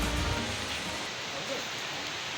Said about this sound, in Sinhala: වැස්සට අහු වුණා.